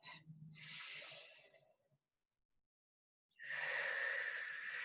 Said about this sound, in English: That was a big deep breath.